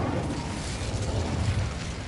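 The Incendio fire spell in Hogwarts Legacy bursts into a steady roaring whoosh of flame, loud and dense, lasting about two seconds without voices.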